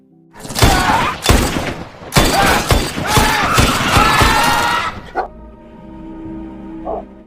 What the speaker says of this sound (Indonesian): Jigong yang terus menggonggong membuat Hak terpaksa melepaskannya.